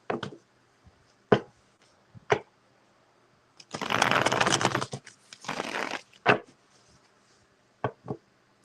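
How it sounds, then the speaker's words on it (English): Tarot cards are shuffled in two longer riffling bursts, with scattered single taps and slaps of cards before and after. "Let me shuffle these real good."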